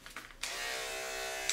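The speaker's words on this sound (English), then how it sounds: "So I'm gonna start with a 10 blade right here on my clippers." Electric dog grooming clippers fitted with a 10 blade buzz on after a few small clicks, then hum steadily and close up while trimming the face of a practice dog model.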